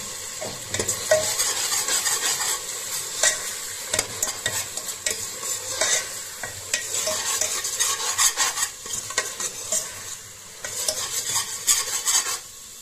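A small spoon stirs ginger-garlic paste in a hot pan, scraping steadily over a continuous sizzle from the oil, with frequent clinks and scrapes against the metal throughout.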